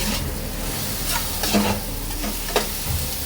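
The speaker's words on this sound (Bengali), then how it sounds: "এগুলো একটু ভালো করে ভেজে নেব" Kokila fish frying in a pan with chilli and salt: a loud continuous sizzle with a few sharp scraping strokes of a spatula, close up.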